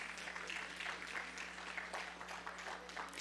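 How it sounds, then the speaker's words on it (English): Audience applauding dancers at an Indian classical dance performance, a soft, continuous wash of clapping heard at a distance over a steady low electrical hum. "let's give them a big round of applause because they're just getting ready"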